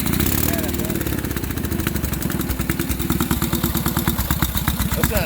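1928 BMW R62 motorcycle engine running just after a kick start, following months without starting, a loud close idle with a rapid, slightly uneven chuffing beat that carries on steadily throughout.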